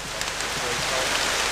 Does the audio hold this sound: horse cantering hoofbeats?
no